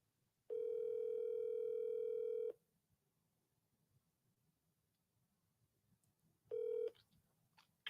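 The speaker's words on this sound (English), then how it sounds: "Let's start dialing." A telephone dial tone sounds steady and clear for about two seconds, then stops. After a quiet gap the tone returns briefly, with faint clicks and a soft room hum underneath.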